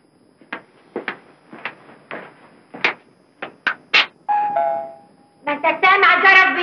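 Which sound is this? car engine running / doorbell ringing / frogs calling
doorbell ringing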